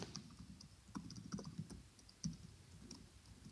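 Typing on a computer keyboard, a quiet, close run of irregular key clicks and taps with short pauses, no voices.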